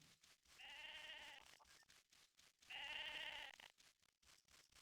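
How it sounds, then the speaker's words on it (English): Two drawn-out sheep bleats from the video game Mabinogi, each lasting about a second and clearly audible over faint background ambience, separated by a short pause. "Do you hear my goats? No, I mean my sheep."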